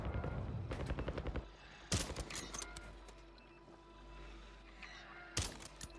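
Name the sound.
sniper rifle shots in the video game Warzone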